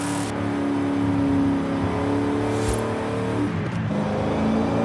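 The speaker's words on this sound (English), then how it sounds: "Listen to that V8 though." VW Golf R32 Mk.4 in Forza Horizon 5, engine droning and revving at steady pitch with a brief whooshing surge midway, continuous and fairly loud, with no speech.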